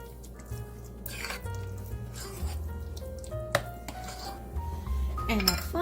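Spoon clinking and scraping in a bowl as finely grated Parmesan cheese is mixed into pumpkin mash, quiet and close, with irregular knocks and soft squishing and a voice talking over it.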